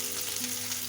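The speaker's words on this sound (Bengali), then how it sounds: "এবার এখানে গোটা জিরে দিলাম আর পেঁয়াজ দিয়ে দিলাম।" Whole cumin seeds and onion frying in hot mustard oil, a soft steady sizzle heard close and alone for under a second.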